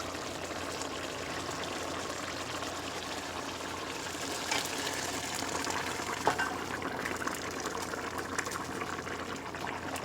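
Boiling liquid pours steadily into a pot with a continuous gushing, bubbling rush, close by and fairly loud, with a few small clinks partway through.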